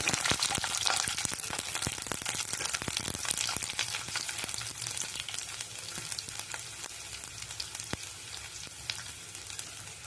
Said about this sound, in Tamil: கடுகு போட்டுக்கலாம். கடுகு நல்லா பொரிஞ்சிடுது.